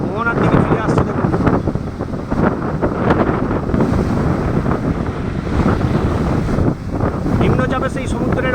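Rough sea during a low-pressure storm at the Digha estuary, with fishing trawlers returning: constant loud wind buffeting the microphone over crashing surf, a heavy, unbroken roar with no clear pause.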